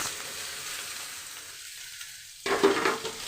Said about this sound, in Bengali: পেঁয়াজ আর গাজরটাকে আমি প্রথমে দিয়ে দিলাম।